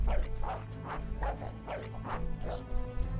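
A dog in Fable III barks in a string of about six sharp, evenly spaced woofs, loud and close, mixed with a few softer yips.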